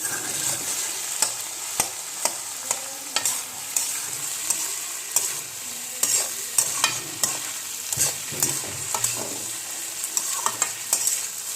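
Sizzling bottle gourd stir-fry with ginger and split green chilies, stirred in a pan, with frequent sharp scraping clicks of the spatula over a constant hiss of frying.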